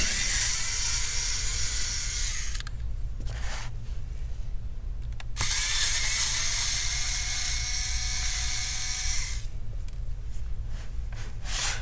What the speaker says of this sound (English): get a Phillips screwdriver and go ahead and remove the